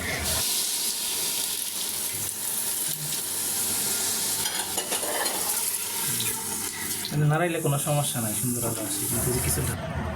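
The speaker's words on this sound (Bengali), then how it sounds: "এই মশলায় এখন দিয়ে দিব ভিজিয়ে রাখা মসুরের ডাল মুগ ডাল" Soaked red and mung lentils tipped into frying spices in a pot for chicken khichuri, a wet hissing sizzle with stirring clatter and a burst of splashing near the end.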